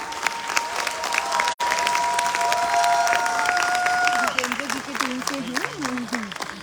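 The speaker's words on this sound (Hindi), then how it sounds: "जोरदार तालियां हमारे और सीनियर लीडर्स के लिए," An event audience in Delhi applauds senior leaders with loud, dense clapping and some cheering that fills the hall, mixed with a voice and sustained tones from the sound system.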